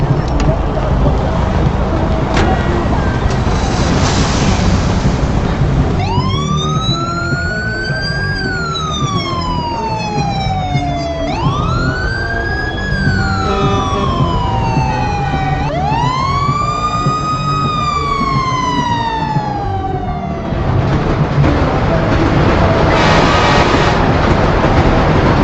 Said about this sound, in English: something I didn't really expect from the graphics mod is the new vehicle sounds pack.